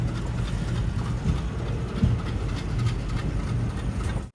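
A train rolls along the track near Ottapalam, giving a steady low rumble with faint rhythmic wheel clatter that stays constant and close throughout.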